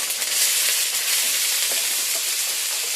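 Cumin, bay leaf, garlic, ginger and onion sizzle in hot oil in a home kitchen pan, a steady close frying hiss with light stirring, no voices.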